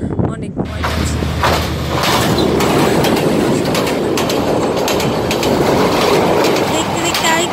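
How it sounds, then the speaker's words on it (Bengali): A train rumbles past up close and loud for the whole stretch, a steady rolling roar with rail clatter, while people talk over it. "দেখতে দেখতে আরেকটি ট্রেন চলে এসেছে"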